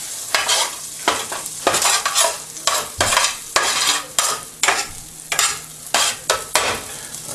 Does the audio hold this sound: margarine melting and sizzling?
yes